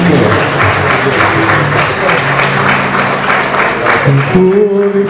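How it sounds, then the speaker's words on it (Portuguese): Church congregation applauding loudly during a Sunday school symposium, dense sustained clapping with crowd voices, tapering off near the end as a voice begins speaking. "As palmas louvem ao nome do Senhor."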